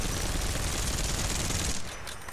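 Dense rapid gunfire from the video game Apex Legends roars continuously as a loud automatic burst, then cuts off abruptly near the end, leaving quieter game ambience.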